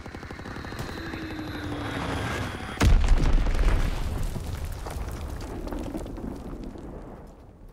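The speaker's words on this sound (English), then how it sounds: "Enemy bomb incoming. Get to cover." An enemy bomb explodes in the Call of Duty WW2 shooter game with a sudden loud boom that booms and rumbles for several seconds before fading, over constant aircraft drone and battle noise.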